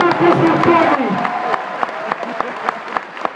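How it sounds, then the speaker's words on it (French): An audience at a Senegalese student event bursts into applause, which fades after about a second into scattered individual claps that continue alone. "s'il vous plaît, pas d'applaudissements"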